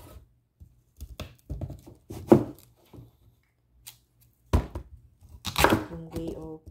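Knife slicing through cassava (kamoteng kahoy) in a kitchen, a series of irregular, close thunks and cuts with quiet pauses between strokes and a few louder, crisper chops near the end.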